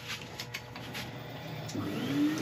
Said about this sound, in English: Right, I'll start sanding.